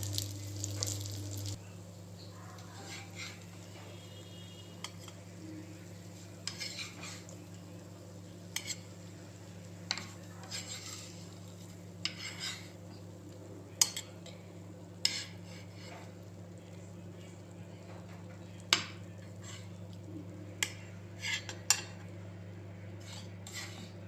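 Fried green masala fish, a hariyali fish fry, being lifted from the pan onto a plate: scattered light clinks and scrapes of a utensil against metal and plate over a steady low kitchen hum, with no talking.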